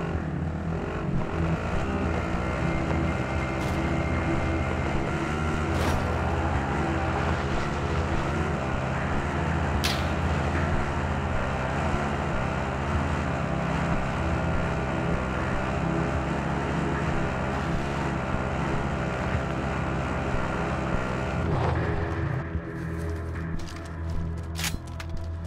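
Vehicle driving in Call of Duty Warzone, a steady engine drone with low rumble held loud and unbroken throughout, a few sharp clicks and bangs layered over it near the end.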